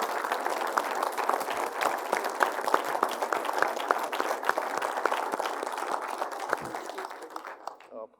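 An audience at a tech company keynote applauds the HDanywhere team, sustained crowd clapping with distinct individual claps, fading near the end, with a voice speaking over it.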